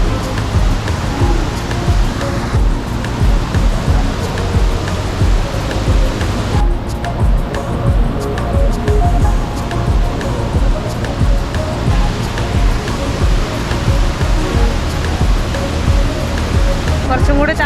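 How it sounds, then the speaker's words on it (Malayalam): Ripple Waterfall in Idukki, Kerala, pours in a steady, loud broadband rush of flowing water that continues unbroken throughout, with no voices over it. "ഇനി നമുക്ക് വെള്ളച്ചാട്ടം കാണാം"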